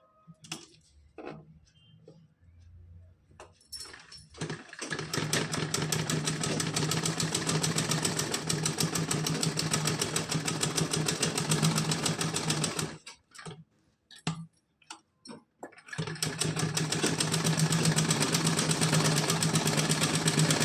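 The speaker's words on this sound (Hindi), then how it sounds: "तो मैं यहाँ पे मशीन से ही जॉइंट करूँगी।" A sewing machine stitches fabric lining for a small doll dress, running in two long steady, rapidly ticking stretches broken by short stop-start bursts, close and fairly loud.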